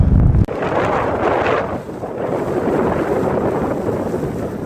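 Strong, cold wind gusts on a snowy Colorado mountain peak and buffets the microphone with a heavy rumbling roar that swells and eases, starting with a brief sharp bump.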